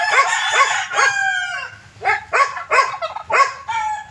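A pair of turkeys on a farm calls loudly and close by, a run of repeated harsh, quavering gobbles in quick bursts with short gaps between, no speech.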